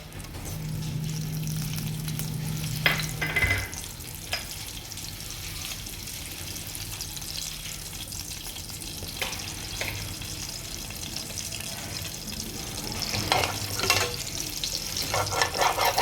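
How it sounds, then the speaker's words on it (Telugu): Whole garam masala spices frying in a little oil on a pan and being stirred, a continuous soft sizzle broken by several sharp utensil clinks and scrapes, moderately close, with no talking. "ఇందులో హోల్ గరం మసాలా వేసుకోవాలి"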